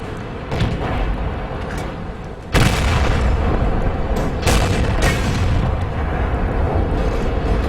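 Loud cannon shots from KV-4 and IS tanks trading fire in a tank video game: a heavy boom near 2.5 s and another near 4.5 s, rumbling over continuous battle noise.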